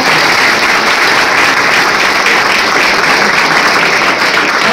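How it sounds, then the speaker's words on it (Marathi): A crowd at a college speech competition applauds, dense and loud, the clapping sustained evenly throughout with no voices. "सगळ्यांच्या एका वेळेस टाळ्या झाल्या पाहिजे."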